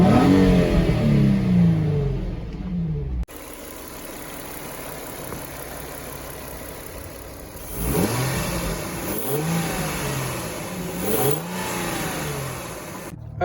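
An Infiniti G35 engine revs hard through an exhaust fitted with big mufflers, giving a low, flatulent-sounding rasp that rises and falls in repeated swells, loud and close.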